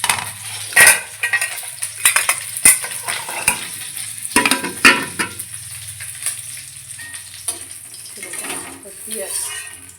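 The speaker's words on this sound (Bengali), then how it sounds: "একটা মাছ ভেজে দিচ্ছি, গরম করে দিচ্ছি।" Fish fries in hot oil in a home kitchen, a crackling sizzle broken by sharp utensil clicks and scraping stirs at irregular intervals.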